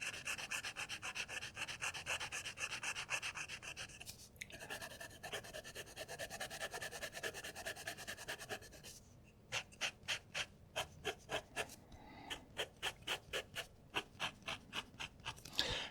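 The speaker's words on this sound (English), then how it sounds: "You can hear the nib, but it doesn't feel overly scratchy" A TWSBI Eco fountain pen nib with Diamine Ash ink scratches across paper in continuous rubbing strokes, then shifts to a quick rhythmic run of short up-and-down strokes, close and fairly soft.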